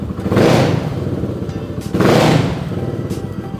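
Fuel-injected custom Honda Ruckus scooter revved twice up close, each throttle blip rising into a loud rasp and then settling back to a rough idle.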